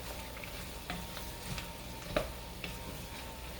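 Greens with garlic cook in a pan with a faint, steady sizzle and a few soft stirring ticks and scrapes, quiet and continuous throughout.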